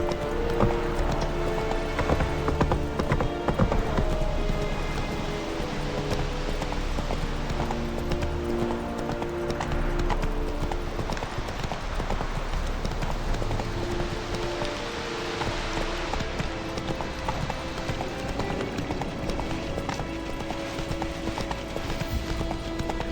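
Hoofbeats of a horse galloping in The Witcher 3: Wild Hunt, a steady clip-clop rhythm running throughout under a dense bed of game music and ambient noise, with no talk.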